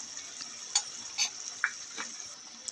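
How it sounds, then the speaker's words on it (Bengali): Spices fry in a pan for a Bangladeshi white chicken korma, with a constant bright sizzle and a few soft scraping knocks as a spoon stirs them, close and steady with no talk. "এবার সবগুলো মশলাকে একসাথে খুব ভালোভাবে কষিয়ে নেব।"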